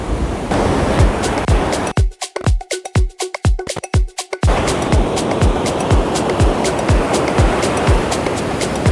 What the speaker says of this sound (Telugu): ఇదే అనమాట బీచ్.